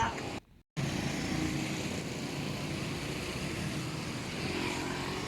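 Engine of a newly repaired Suzuki Smash 115 motorcycle on a road test, a steady droning run with wind noise and a brief cutout near the start, with talk over it.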